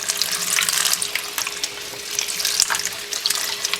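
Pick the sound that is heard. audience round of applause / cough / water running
water running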